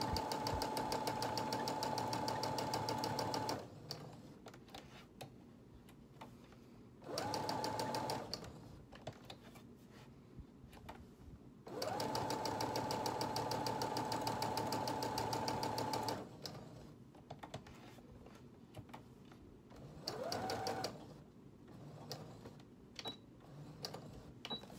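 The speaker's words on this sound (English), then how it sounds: "I'm gonna sew it on." A sewing machine stitches lace onto a Halloween junk journal page. The motor whirs in several steady runs of a few seconds each, with a quieter pause between them.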